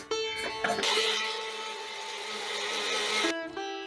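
A mixer grinder whirs loudly and steadily as it grinds fennel, ginger and green chilli into a paste, a sustained motor roar that starts after a few short bursts and stops abruptly near the end.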